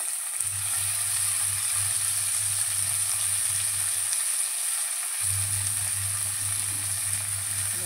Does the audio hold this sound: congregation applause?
no